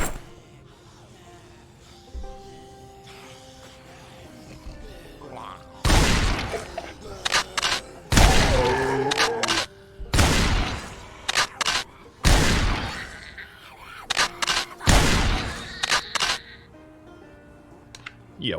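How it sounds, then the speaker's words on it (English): Gunfire and explosions in the zombie survival video game Project Zomboid come as repeated loud, sharp bursts and booms, mixed with quieter stretches where someone talks. "So while I celebrate with gunfire and explosions"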